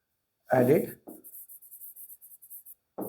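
A pen writes out a math equation on paper, a close, rhythmic series of short scratchy strokes between brief bits of talking at the start and end.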